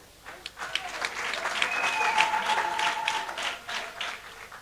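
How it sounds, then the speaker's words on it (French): Audience applauding at an investiture ceremony as a name is called, steady clapping across the room with some speech-like sounds mixed in, moderately loud throughout. "chaque fois qu'on appelle un nom, vous applaudissez fort pour les encourager"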